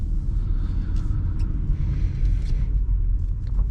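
A supercharged 3.0T V6 in a 2016 Audi Q5 pulls hard from a tap of the throttle: a steady, loud low rumble heard from inside the cabin, with no break over the few seconds.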